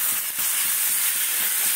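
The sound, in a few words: curry sautéing in a pan with black pepper powder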